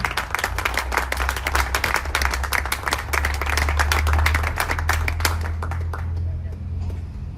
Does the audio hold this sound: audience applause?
yes